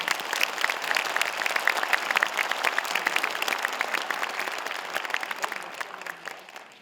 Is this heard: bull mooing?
no